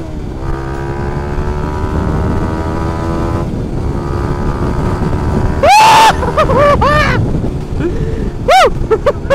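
A motorcycle engine with a freshly remapped ECU idles steadily, then gives sharp throttle blips that rise and fall quickly, loud and close, with a second brief rev near the end.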